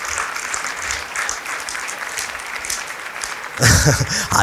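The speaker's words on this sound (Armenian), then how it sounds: "40-ից 50, ծափահարեք" A stand-up comedy audience breaks into applause near the end, a sudden burst of clapping that follows a stretch of quieter murmuring room sound.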